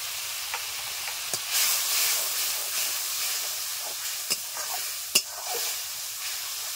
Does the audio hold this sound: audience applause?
no